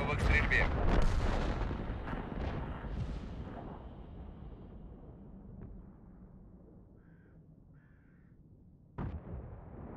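Lorraine 155 tank cannon in World of Tanks fires a heavy, booming shot that rolls and fades over several seconds, followed by quieter ambient noise and a brief sharp click near the end.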